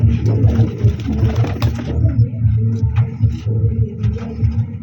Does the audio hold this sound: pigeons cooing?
yes